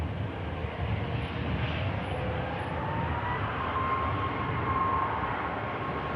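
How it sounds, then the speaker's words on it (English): An aircraft engine drones at an airport, a steady distant rumble that holds evenly throughout with no talking. "What's a nice aircraft on the way out there"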